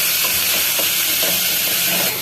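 Onions, cumin and ginger-garlic paste sizzle steadily in a hot pan for a dhaba-style egg gravy, a close continuous hiss with faint stirring and no talk.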